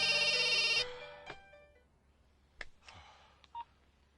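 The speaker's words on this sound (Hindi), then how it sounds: "फोन नहीं उठा रहा यार।" A telephone rings on a call that goes unanswered: a loud electronic ringtone sounds for under a second, then cuts off, leaving quiet with a few faint clicks and handling noises.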